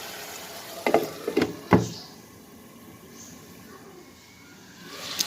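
An onion tree dish stirred in a pan after the lid comes off, a few sharp clattering scrapes early on, then a quiet low sizzle with faint hiss.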